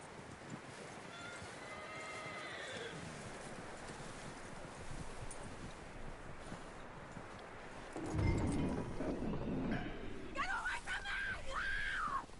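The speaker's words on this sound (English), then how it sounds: "That looks like a decent horse. You should keep him" A horse whinnies several times over steady outdoor ambience in the video game Red Dead Redemption 2, with a louder, closer neigh and shuffling hooves near the end.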